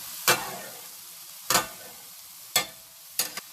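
A utensil scrapes browned bits off the bottom of a pan while making BBQ Steak-umm sliders, with four short, close scraping strokes separated by quiet pauses.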